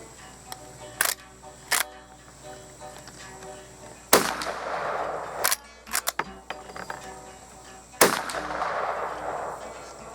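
Rossi R92 lever-action rifle in .45 Colt fired at a range, several sharp, loud single shots spaced a few seconds apart, with quieter clicks and clatter from the action between them.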